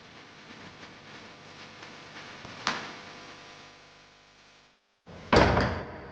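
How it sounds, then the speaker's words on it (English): A door swings shut with a firm thud near the end, following a quieter knock midway over a steady room hum, with a short silent gap before the final close. "the door closed behind her"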